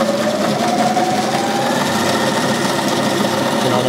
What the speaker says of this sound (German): Sägen wir jetzt. Jetzt wird es ein bisschen lauter.